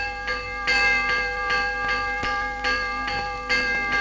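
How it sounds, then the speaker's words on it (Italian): A bronze church bell at Castel Sant'Angelo rings repeatedly in a slow, steady rhythm, each stroke leaving a long ringing tone that overlaps the next. "Senza età è anche il suono di questa campana."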